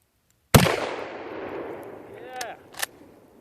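A single loud, close rifle shot from a Mosin Nagant 1933 91/30 bolt-action rifle, fired at about 600 millimetres, cracks sharply and then rolls off in a long fading echo, with two faint knocks following.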